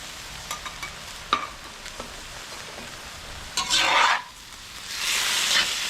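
Beef and broccoli being stirred in a cast iron wok, with light scraping taps early on and then two louder bursts of sizzling and frying close by, with no voices.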